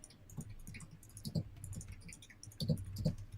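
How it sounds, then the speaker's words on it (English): Computer keyboard typing in a quiet room, a string of soft, irregular key clicks with a few louder bursts toward the end, fairly close and faint. "Is that me you're hearing typing?"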